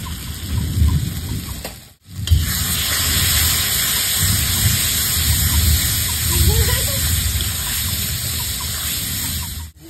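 Tomatoes frying in a pan for a prawn and pointed gourd curry, giving a loud, steady sizzle and hiss throughout with one brief break near the start; no voice.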